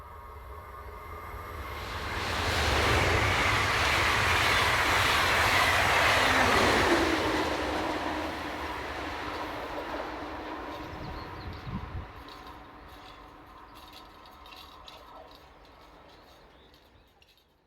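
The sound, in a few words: ICE Class 402 train passing, Berlin to Dusseldorf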